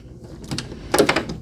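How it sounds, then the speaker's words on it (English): Mailbox door being opened in an art studio, a few quick clattering, sliding thumps and clicks up close with no talk. "and opening the door"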